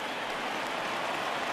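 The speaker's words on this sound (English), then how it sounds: "the rain's starting to intensify here. It's coming down a little heavier now." Rain comes down heavily over a baseball stadium in the MLB The Show 20 video game, a broad, even wash of hissing noise, steady and unbroken with no voices over it.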